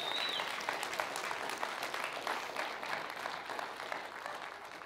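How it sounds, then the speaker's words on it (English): Church congregation applauding and cheering, steady dense clapping that fills the whole stretch at a moderate, slightly distant level and tapers a little toward the end. "Now you can cheer again."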